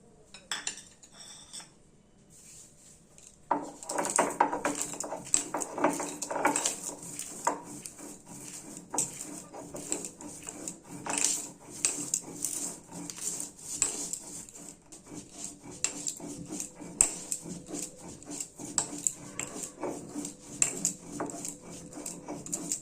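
Dry-roasted spices for a potato curry are ground close by, giving a busy run of grinding rattles and clinking knocks after a quiet opening, continuing steadily throughout.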